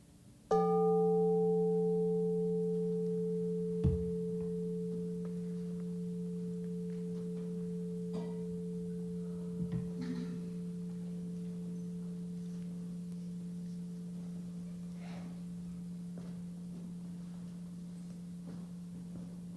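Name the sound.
meditation bell ringing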